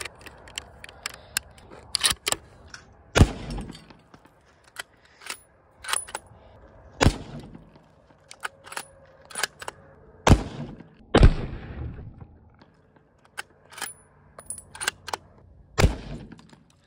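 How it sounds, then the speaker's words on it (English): .30 caliber 180 grain rifle bullets fired at a Milwaukee cordless tool: repeated sharp, isolated cracks spaced irregularly a second or more apart, with smaller clicks and impacts between them. "I think it's time for the 30 caliber 180 grain bullets right here."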